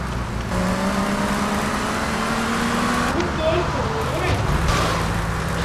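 A car engine drones and revs steadily while driving in the video game GTA Vice City, during the Waste the Wife mission, with shifting pitch and rough road and crash noise throughout.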